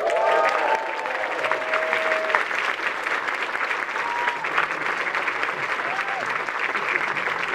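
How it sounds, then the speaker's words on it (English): A crowd at a 2023 Hollywood screening of Friday the 13th Part 3 in 3D applauds steadily and loudly, a continuous wash of clapping with a few faint voices rising through it. "big round of applause"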